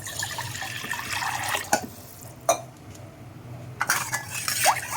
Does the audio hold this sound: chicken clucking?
no